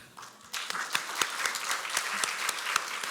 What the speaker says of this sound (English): I think we can do it with another loud round of applause